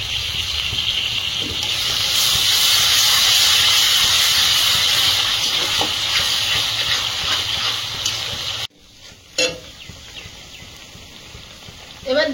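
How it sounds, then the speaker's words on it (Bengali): Whisked sour yogurt poured into hot spiced oil in a pan for a prawn curry (doi chingri) gives a loud, steady sizzling hiss for about eight seconds. It then cuts to a quieter stretch with a few short clatters. "এবার দিয়ে দেবো ফেটানো টক দই।"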